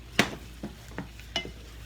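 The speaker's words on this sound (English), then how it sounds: "Let it sit there and fry a little bit more." Soft scraping and stirring clicks as corn fries in a pan over a steady low sizzle, with a handful of light hits spread unevenly.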